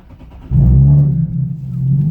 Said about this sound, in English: Let's go ahead and start it up again.